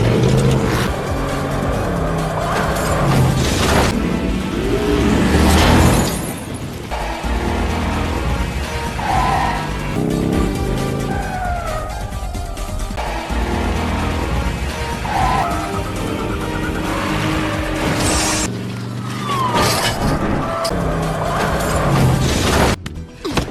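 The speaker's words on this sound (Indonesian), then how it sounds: "Dirinya langsung menabrakkan mobilnya dengan mobil si Damon." A film car chase in which one car rams another, with loud, continuous engine roar, passing vehicles and tire noise building to crash-like impacts, no talking.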